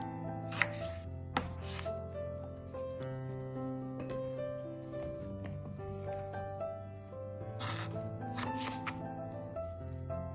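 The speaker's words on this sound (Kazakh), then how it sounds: "Мінекей, қызанағымыз турап болдық." A knife cuts tomatoes on a board in a home kitchen, with a few crisp chopping knocks and light clinks between longer quiet stretches, close but soft.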